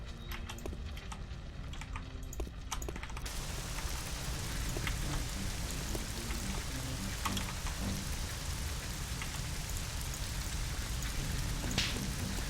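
Rain falls in the Silent Storm video game as a steady broadband hiss of drops on surfaces, with a few faint clicks near the start. The level holds even throughout with no voices.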